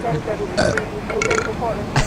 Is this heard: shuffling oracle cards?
no